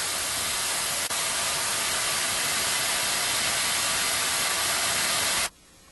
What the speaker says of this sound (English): It's spraying rather heavy.